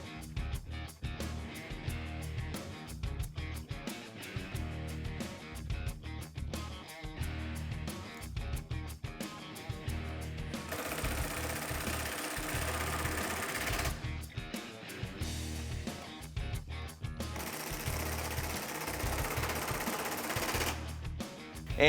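Power impact gun driving two 8mm bolts on a 2015-2018 Ford F150 LED tail light, fairly quiet rapid rattling bursts that start and stop repeatedly, with longer buzzing runs near the middle and end.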